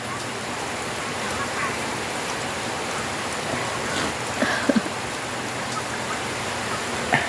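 Steady rain falls throughout, a dense even hiss with a few louder drips or knocks near the end.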